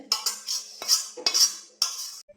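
Sukhdi, a Gujarati sweet, being stirred in a pan: a few sharp utensil scrapes and clinks in quick bursts, close and fairly loud, with brief pauses and no voices.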